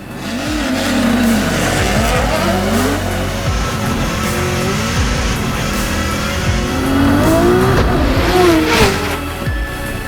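Drift cars run in a drag race on the eighth-mile track at Irwindale, with loud engines revving and rising through gears and a few tire squeals, the roar sustained and fairly close throughout.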